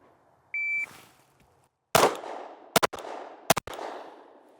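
A shot-timer beep, then three pistol shots fired in about five seconds, each a sharp, loud crack with a ringing tail, spaced roughly a second apart at a shooting range.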